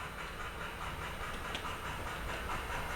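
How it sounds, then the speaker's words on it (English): An On30-scale model train rolls past on a model railroad layout near a dock, giving a steady, even rumble with a soft hiss and faint clicking wheels, unbroken and without speech. "you'll see a train going by"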